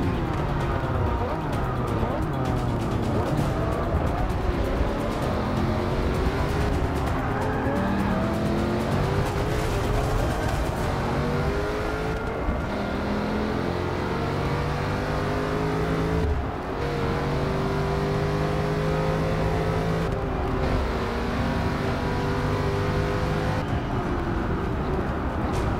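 A race car engine in Forza Motorsport 6 revs hard and accelerates continuously, loud and upfront, with gear-change harmonics sweeping up and down, some tyre squeal, and a voice talking over it.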